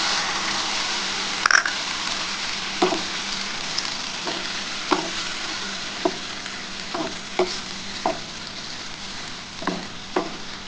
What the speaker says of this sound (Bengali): এবার আমি যে মশলার জলটা আছে সেই জলটা দিয়ে দিচ্ছি। এই যে সর্ষের জলটা দিয়ে দিলাম।